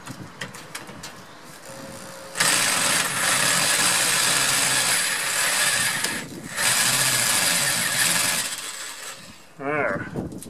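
A power drill bores into a stubborn gate, whining loudly in two long, steady bursts separated by a short pause, with quiet mechanical clicks before it starts and a brief voice at the end.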